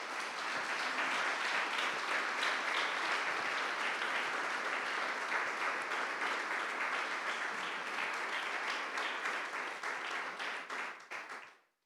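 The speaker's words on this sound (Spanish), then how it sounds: "Dale un aplauso a Jesús." A church congregation applauds in a long, dense, steady burst of clapping that fills the space, then fades out near the end.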